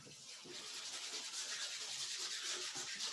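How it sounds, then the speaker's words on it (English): A cutting board is wiped clean with a soft, steady rubbing hiss that repeats in quick strokes, close and fairly quiet. "So I'm just going to clean this cutting board."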